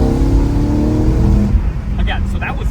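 BMW E92 M3 GTS with an S65 engine and plenum intake, accelerating hard in third gear from low revs: a loud, steady, rising engine roar heard from inside the car, with brief voice sounds near the end.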